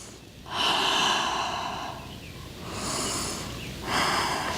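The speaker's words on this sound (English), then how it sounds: "Breathing deeply here. A few restorative breaths." Deep, slow breaths during a yoga session: two long airy inhales or exhales and the start of a third, close and audible with no talking over them.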